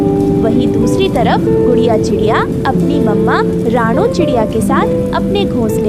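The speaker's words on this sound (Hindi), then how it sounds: "तेज बारिश हो रही थी।" Heavy rain makes a steady, dense hiss that fills the background, with a possible faint rumble of thunder, all running beneath continuous narration by a storyteller with character voices.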